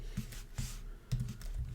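Bursts of typing on a computer keyboard while entering HTML code, quick clusters of key clicks separated by short pauses, close and fairly quiet.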